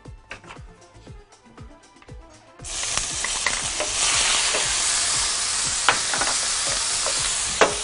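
Onions are dropped into hot oil in a pan. After a quieter stretch of light clicks and stirring, a loud, dense sizzle erupts and continues close and steady, with occasional scrapes.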